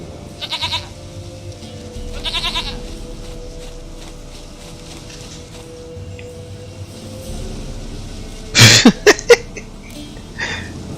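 Short nasal goat bleats from The Witcher 3, two spaced calls early on and then a sharper cluster of sounds near the end over a low background hum.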